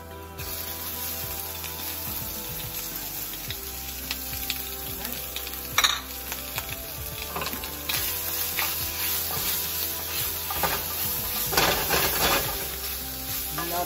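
Garlic and shrimp stir-fry in a pan for egg rolls, a steady sizzle with scraping and clinking stirring strokes throughout, no talking.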